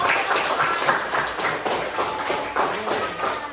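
Students in a classroom coding and artificial intelligence lesson clap together, giving a quick, fairly close patter of tapping hand claps that runs throughout.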